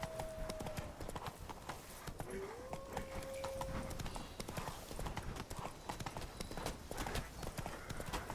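Hooves of Roach, Geralt's horse in The Witcher 3: Blood and Wine, clip-clop in a steady walking rhythm on hard ground, close and continuous, with a brief whinny-like tone early on.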